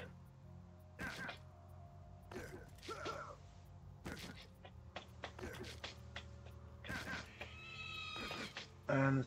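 A cat in the Borderlands game lets out several short meows spaced a second or two apart, mixed with thumps and scattered game noises, and a person talks at times.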